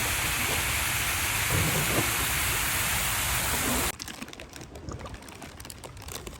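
A large waterfall roars beside a boat in Georgia: a loud, steady rushing wash for about four seconds, then an abrupt drop to a quieter scene with light clicks and splashes.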